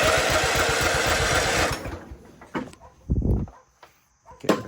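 A Husqvarna YTH1542 lawn tractor engine cranks and fires on choke, a loud rapid chugging for nearly two seconds that then cuts out, followed by scattered clicks and short bursts of sputtering as it tries to catch.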